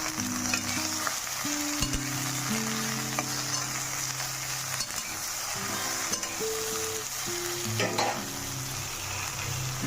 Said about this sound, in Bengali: ঢ্যাঁড়সটাকে স্লো ফ্লেমেতে একটু নেড়ে চেড়ে নিয়েছি